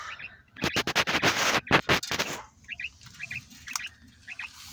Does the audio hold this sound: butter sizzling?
no